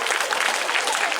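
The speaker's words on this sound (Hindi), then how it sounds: "ताली बजाई जोर से।" An audience at a stress-relief happiness programme in Khamgaon claps loudly, a dense steady wash of applause filling the short moment without any pause.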